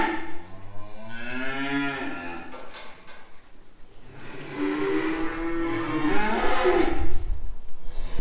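Cattle moo loudly and close by while being gathered, with long drawn-out calls overlapping one another and a few shorter lows in between.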